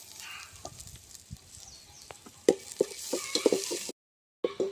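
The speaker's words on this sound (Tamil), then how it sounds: "இப்போ வெங்காயத்தை நல்லா வதக்கிடலாம்." Chopped onions sauté in hot oil for a Tamil urundai kulambu, a steady bright sizzle with sharp scraping stir clicks over the second half and a brief silent break near the end.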